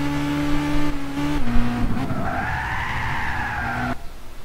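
A Toyota Prius in Gran Turismo 6 squeals its tires as it loses grip at Pouhon, Spa-Francorchamps, a loud sustained tonal screech over the engine that rises in pitch, then abruptly drops away near the end.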